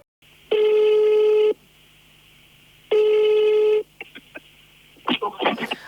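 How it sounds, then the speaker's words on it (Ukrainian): A telephone call rings out with two long ringback tones separated by a pause, followed by a short burst of clicks and a voice answering at the end. "Ми зв'язались телефоном із директоркою гімназії номер 5 Інтеграл."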